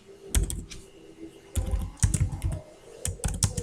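Bursts of computer keyboard typing while entering printf code for a C structure program, quick clustered keystrokes in several short runs separated by brief pauses, close and clear with no talk.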